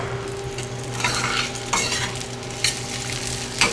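Food sizzles loudly as it fries in a pan at medium-low heat, with a utensil stirring and scraping in periodic strokes, close and continuous with no voices.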